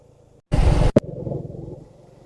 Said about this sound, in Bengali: এই যে 3 নাম্বার গিয়ারে উঠতেছি আপিলে, 34 স্পিড, 3 নাম্বার গিয়ারে।